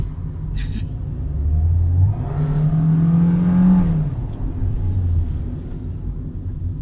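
A Perodua Myvi engine revs hard at full throttle close by, its low rumble climbing to a loud, straining peak midway before easing back to a steady idle-like drone.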